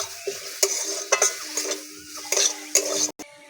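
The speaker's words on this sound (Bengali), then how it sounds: "একটা বড় টমেটো আর 4টে কাঁচা লঙ্কা চিড়ে রেখেছি, দিয়ে দিচ্ছি" Tomato and green chillies for oil-free ghugni are stirred in a pan with a faint sizzle. A utensil taps and scrapes against the pan in several separate clinks, and the sound is close and fairly quiet.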